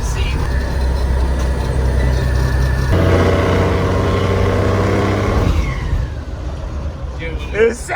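A Ford Crown Victoria with a straight-pipe exhaust and roughly five-inch downpipe rumbles loudly up close, its low drone rising in pitch as it revs then dropping away, with people talking over it.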